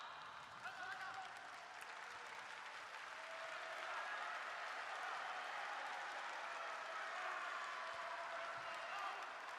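Crowd applause rises and holds steady at a Cheongdo bullfighting match as two fighting bulls clash, a broad, continuous clapping roar lasting the whole stretch, with a commentator's voice running over it.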